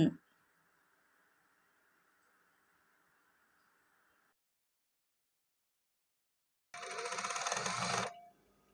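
A sewing machine backstitches at the start of a seam on a back-slit shirt collar. A faint, steady whir runs for about four seconds, then a pause, then a louder, short burst of fast stitching.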